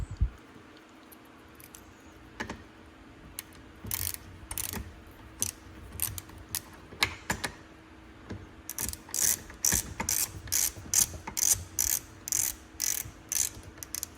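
Metallic ratcheting clicks and ratcheting bursts while a bolt is fitted and adjusted on a shotshell reloading press for 28 gauge shells, close and steady, growing denser and louder toward the end.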